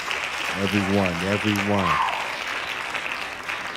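An audience claps steadily, the applause running throughout as someone speaks over it.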